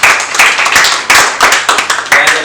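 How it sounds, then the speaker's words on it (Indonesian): A small class group gives a short round of applause for a student teacher in an art class, the claps loud and close, arriving in quick uneven bursts with brief gaps between them. "Beri tepuk tangan buat Hasimi."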